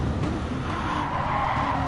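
Tires on a Renault Megane Trophy race car skid and squeal under hard braking on a circuit, a continuous loud scrubbing screech mixed with engine noise and no voices.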